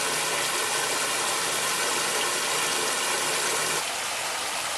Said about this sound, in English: it sounds more like a waterfall rather than rain